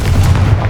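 Confringo blast spell cast in Hogwarts Legacy, a short booming burst with heavy low rumble, loud and close, lasting under a second.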